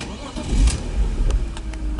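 A car engine cranks, catches and settles into a steady idle, loud and close, with no one talking.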